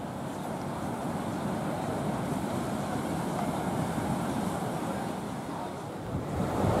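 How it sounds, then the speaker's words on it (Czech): A stormy sea breaks on Matala beach in Crete, with a continuous, fairly quiet roar of surf and wind rumbling against the microphone. "Jsou tady slušné vlny."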